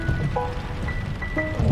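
Rain falling outdoors, a steady soft patter on surfaces with a low rumbling wash underneath, continuous and fairly close, with a few faint tonal sounds drifting through.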